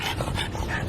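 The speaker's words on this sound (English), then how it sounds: "oh yeah, by the way, here's my dog." A dog pants and whimpers softly, close up and continuous for about a second.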